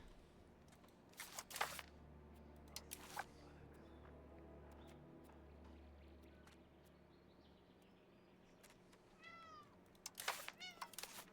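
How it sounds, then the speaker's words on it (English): A cat meows faintly and repeatedly in the background of a quiet room over a steady low hum, with a few scattered clicks and chirpy meows clustered near the end. "cat. I hear you."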